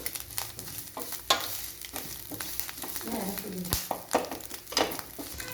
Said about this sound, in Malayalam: ഈ ഒന്ന് ലോ ഫ്ലെയിമിൽ വെച്ചേക്കാം ഇത് നന്നായി ഒന്ന് ഇളക്കി കൊടുക്കണം